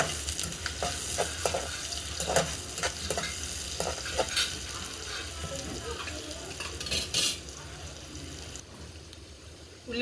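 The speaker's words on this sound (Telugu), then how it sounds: "ఉల్లిపాయ ముక్కలు వేయించుకుందాం" Onion slices frying in hot oil for a home-style dum biryani, a steady crackling sizzle with occasional clinks and scrapes of a utensil stirring in the pan, continuing evenly throughout.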